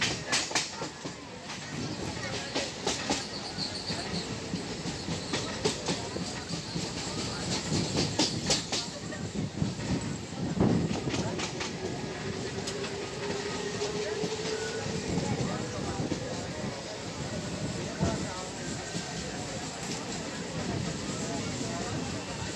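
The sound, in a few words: local train running fast, Tarakeswar to Goghat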